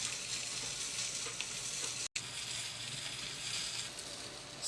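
Milkfish (bangus) grills with a soft, steady crackling sizzle, faint and close, broken by one brief dropout partway through, with no voices.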